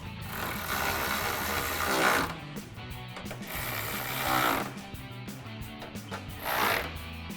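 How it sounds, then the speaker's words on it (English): Ratchet with a 10mm socket tightening headlight bolts on a 2005-2009 Mustang, giving repeated clicking and mechanical rasping bursts with brief pauses between them, close and fairly loud with no talking. "Grab my ratchet with my 10mm socket and tighten them down."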